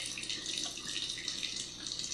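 Water runs steadily from a bathroom tap into a sink while beauty blenders are washed with soap, a constant close hiss and splash with no talking.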